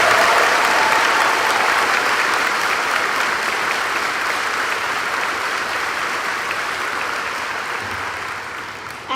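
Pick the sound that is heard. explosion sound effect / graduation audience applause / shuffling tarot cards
graduation audience applause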